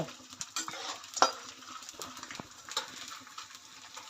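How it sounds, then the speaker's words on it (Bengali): Handfuls of gond, edible gum, fry in melted ghee for gond ladoo, a soft sizzle beneath frequent close scrapes and light metallic clinks of a spoon stirring in the pan. "গন্ধটা ভাজতে গেলে একটু ঘিটা বেশি লাগবে"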